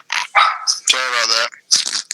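A man imitates a dog with his voice, giving a few short bark-like yelps and then a longer drawn-out howling bark, loud and close, during casual podcast talk.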